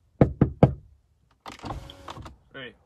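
Three sharp knocks rap on a door in quick succession, fairly close, followed by a muffled rustling, shifting noise.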